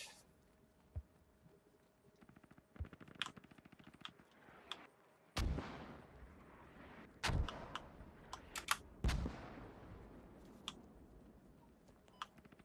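Mortar and gunfire in the military shooter game Squad: sharp scattered impacts and a few heavy booming blasts with decaying tails, interspersed with rapid clicking bursts, moderately loud with no voices.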